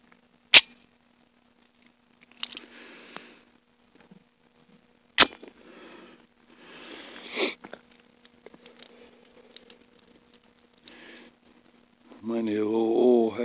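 A Llama Mini Max .45 pistol fired outdoors, with a few sharp, loud, isolated shots spaced several seconds apart and handling clicks of the slide and magazine in between. A voice speaks near the end.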